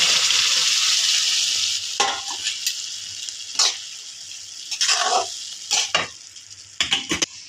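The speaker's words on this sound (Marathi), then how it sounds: "आता ही डाळ आपण थोडीशी घोटून घेऊयात" Cooked dal being whisked and mashed in a pot for dal khichdi: a steady close hiss broken by several sharp scraping strokes, clustered irregularly toward the end, with no talking.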